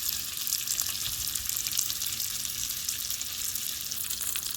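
Salmon sizzling in a pan with fresh rosemary and minced garlic, a steady bright crackling hiss at even loudness throughout, close and uninterrupted.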